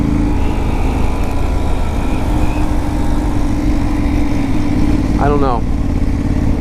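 A clutchless automatic motorcycle being ridden, its engine droning loud and steady up close under a rider's brief spoken remark.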